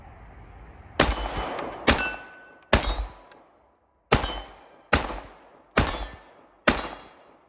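Colt Custom Carry 1911 pistol firing seven loud, sharp gunshots, each with a ringing metallic decay, spaced roughly a second apart with a longer pause after the third.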